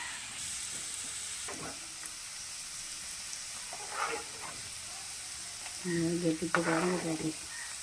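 Ginger garlic paste fries in hot oil for a stored cabbage pickle, a steady faint sizzle running throughout with brief stirring clatters, while a voice speaks near the end.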